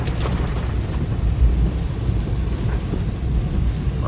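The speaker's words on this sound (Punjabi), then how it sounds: "ਦੇਖ ਲੋ ਵੀ ਕਿੰਨਾ ਕੁ ਮੀਂਹ ਪੈ" Heavy rain pours steadily over farm fields, a dense continuous hiss with deep low rumble underneath, loud and close throughout with no voices.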